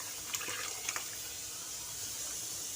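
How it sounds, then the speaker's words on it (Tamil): About a cup of water is poured into a pot of cooking dal and greens for keerai kootu, a faint, soft splashing early on that settles into a quiet watery hiss. "இது கூடவே 1 கப் அளவுக்கு தண்ணி ஊற்றிக்கலாம்"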